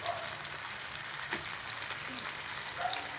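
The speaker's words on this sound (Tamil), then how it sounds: "நல்லா ஸ்லோவிலே வச்சு நல்லா 2 பக்கமும் திருப்பி விட்டு முறுமுறுன்னு வர்ற அளவுக்கு நம்ம வறுத்து எடுக்கணும்" Ribbon fish fries slowly in oil on a griddle, a continuous even crackling sizzle heard close and alone, with no voices.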